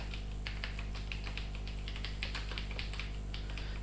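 Fingers tap steadily on a computer keyboard, quick irregular clicks close up and fairly quiet, no one speaking, while text is entered for a simple web page.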